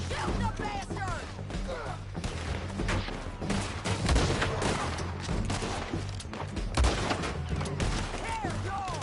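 Gunfire in Red Dead Redemption 2, with dense, rapid shots and heavy thumps sounding throughout, loud and close, mixed with shouting voices.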